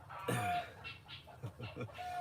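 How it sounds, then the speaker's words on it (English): A guinea hen and a rooster squabbling on a farm, loud harsh squawks and clucking calls traded back and forth in quick irregular bursts, close by, with no talk over them. "And the guinea hen and the rooster are going at it."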